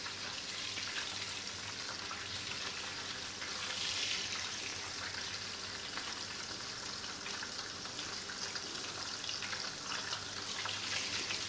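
Butter browning in a skillet, a steady, even sizzle and crackle with fine popping that stays at a moderate level for the whole stretch, with no one talking.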